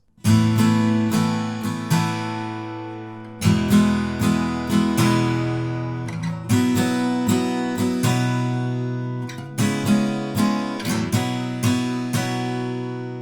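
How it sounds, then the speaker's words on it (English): Rhythmic strummed guitar chords played loud and close, with sharp down-strum accents and a few brief pauses between chord changes. "And that's it for the strummed bridge, which sounds like this."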